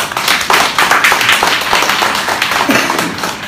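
Audience clapping at the opening ceremony of an art fair exhibition in a gallery, a brief burst of close, dense applause that holds steady throughout.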